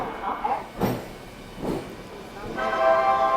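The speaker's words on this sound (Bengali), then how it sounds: "আমাদের খড়গপুর থেকে দীঘা যাওয়ার লোকাল ট্রেন ঢুকছে।" A Midnapore–Howrah local train, the Kharagpur to Digha service, pulls into platform 7 at Kharagpur station: low rolling rumble with a few sharp bursts and a rising tonal hum near the end, amid background station voices.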